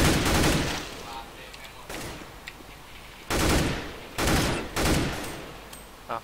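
Video game gunfire from a jump-shooting move, coming as several short, loud bursts separated by quiet gaps, with talk also present.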